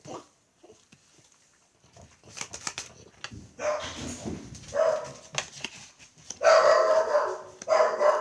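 A pet dog barks indoors in a home, with several sharp barks and whimpers that grow louder and more insistent toward the end, heard alone without speech.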